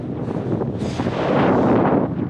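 Strong wind gusts across a steep, rocky mountain hillside, a loud, continuous buffeting roar that swells midway and stays heavy, with no one speaking.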